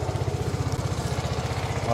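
A motorcycle engine running close by, its steady rapid low putter pulsing evenly throughout at a constant idle-like pace.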